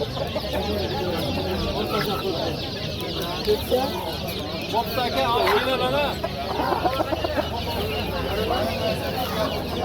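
Laying hens clucking among other poultry at a busy bird market in Namangan, a steady layered din of clucks with a rooster call or two, people talking throughout.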